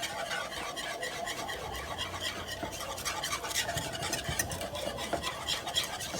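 A spoon stirs smothered pork chop sauce with vegetable broth in a pan over high heat, a steady close scraping and swishing with light liquid bubbling, no voices.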